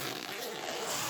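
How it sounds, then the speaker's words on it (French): A double zipper on a craft bag is pulled open in one quick, close, rasping sweep. "Vous avez une double fermeture éclair."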